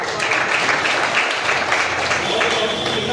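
Continuous crowd applause fills an outdoor political party meeting, steady and fairly loud, with a voice speaking over the clapping.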